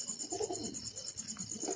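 Pigeons coo softly inside a well, a few low, muffled, echoing coos repeating over a faint steady background hum.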